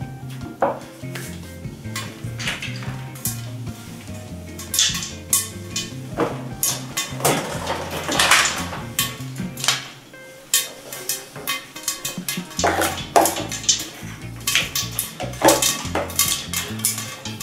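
Popcorn kernels popping in a covered pot, sweet popcorn being made on the stove: a busy run of sharp pops and rattling knocks against the lid and metal, fairly loud and close, with dense clatter through the whole stretch.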